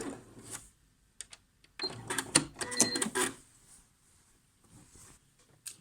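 A sewing machine stitching a buttonhole on a pyjama shirt, with short bursts of fast mechanical whirring and clicking; the densest run sits in the middle, then brief quieter taps follow.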